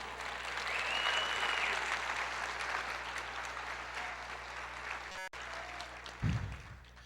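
A church congregation applauds steadily and loudly for several seconds, a dense wash of clapping that continues with little change before a brief break and a low thump near the end.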